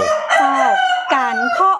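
A Lao Pa Koi breed rooster crows close and loud in Thailand's north, two long, strained calls with a short broken crow at the end, heard alone.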